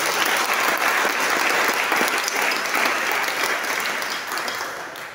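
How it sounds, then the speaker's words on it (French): Church congregation breaking into dense, sustained applause and cheering at a Sunday service, loud and continuous before slowly tapering at the end. "Donne des acclamations au roi de roi"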